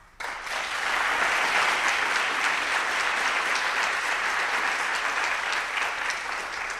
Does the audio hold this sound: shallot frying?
no